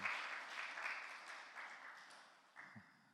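A church congregation at a youth service applauds, a soft, distant patter of clapping that fades gradually, with a faint voice near the end.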